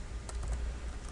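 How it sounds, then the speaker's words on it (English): Rapid clicking of computer keyboard keys as text is typed, a close, steady run of light taps with no talking. "just start typing in text and content"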